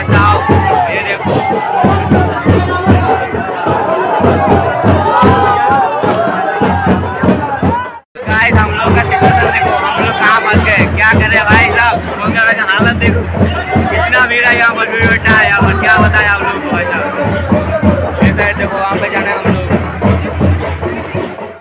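Dense crowd hubbub at the Rash Mela fair, a continuous loud babble of many voices with shouts and chatter, broken by one brief gap, with nearby talk mixed in.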